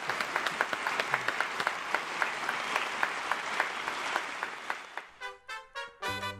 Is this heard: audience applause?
yes